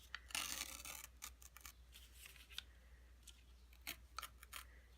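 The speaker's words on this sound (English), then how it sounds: "You're tearing just inside the line." Paper is torn slowly by hand along a pencil line in short, crisp ripping bursts with brief pauses between them, quiet and close.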